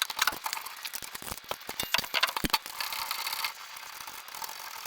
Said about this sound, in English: So we're going to take these two bolts off